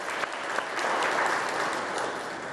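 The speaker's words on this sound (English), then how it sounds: "how about another round of applause for Kristen's leadership of this great organization." Audience applause fills a charity recognition breakfast for a hunger relief campaign, a steady dense clapping from a seated crowd that swells slightly midway and holds loud throughout with no talk over it.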